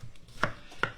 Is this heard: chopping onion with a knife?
yes